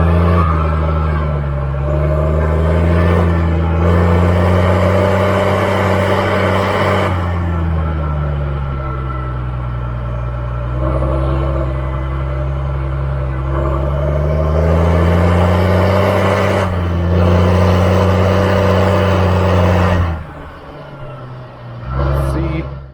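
Tractor engine idling and rising in revs, heard through an open side window, a loud steady harmonic drone that swells and dips over about twenty seconds before a brief drop near the end.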